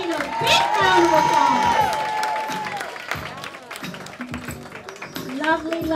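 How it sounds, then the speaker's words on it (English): Audience at a salon and spa first-anniversary gathering applauding and cheering, with whoops and crowd chatter mixed over the clapping; the applause is loud at first and then thins out. "she needs a big round of applause"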